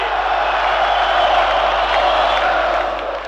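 A large crowd cheering and roaring at a Milosevic rally in Kosovo, a dense, steady wash of voices held for a few seconds before fading slightly.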